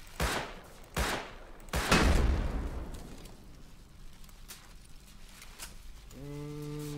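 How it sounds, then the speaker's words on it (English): Shotgun traps blasting in the survival game Rust: three loud, sharp booms about a second apart, the last with a long rumbling tail, then a short tonal electronic hum at the end. "Shotgun traps in my way."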